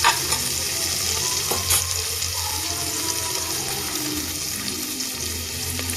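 Chillies frying in a pan for a wheat rava biryani, a steady broadband sizzle with stirring scrapes, continuous and fairly loud, no voices.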